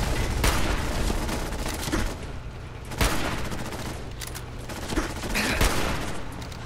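Bursts of gunfire ring out in Fallout 4: several sharp, separate volleys of shots spaced a few seconds apart over a steady rumble of game ambience.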